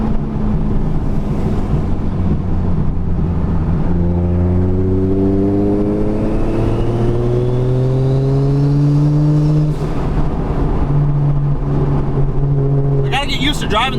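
A car engine revs hard through a full acceleration pull on a street-tuned car, its pitch rising steadily, then dropping at a shift and climbing again under heavy wind noise.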